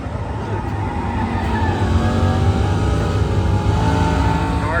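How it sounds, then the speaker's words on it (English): A car engine revs and drones steadily on the floor of the Fabtech 2022 welding equipment trade show, loud and continuous with a rising note near the end, over faint crowd background. "Car's actually moving too."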